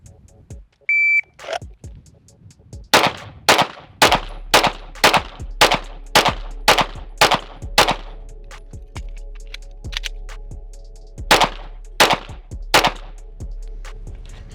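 A shooting drill opens with a start beep, then sharp, loud gunshots come in quick strings: a fast run of about ten cracks, a pause, then three more, with echoing tails between shots.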